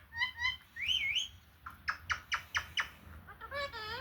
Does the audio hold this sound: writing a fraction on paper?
no